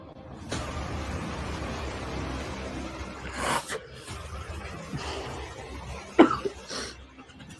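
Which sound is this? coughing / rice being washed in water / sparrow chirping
coughing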